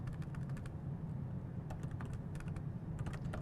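Quick, light keystrokes clatter on a computer keyboard in short bursts against a low steady room hum, fairly faint and with no talking.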